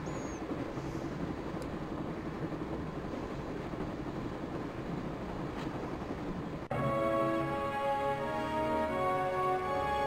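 Train rumbling in the Broken Sword adventure game, a steady broadband roar that shifts partway through into a louder, tonal rolling drone with ringing harmonics, no talk.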